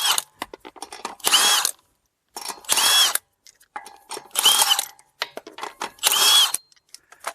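An impact wrench spins off over-tightened lug nuts on a Chrysler Town & Country wheel in four loud, sharp bursts. Short ratcheting clicks and quiet gaps fall between the bursts.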